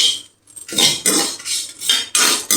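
Metal utensil scraping and stirring spices as they dry roast in a pan for Thanjavur-style puliyodharai, with a run of loud, close scrapes in quick bursts and no voices.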